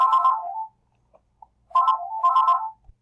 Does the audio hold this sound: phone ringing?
yes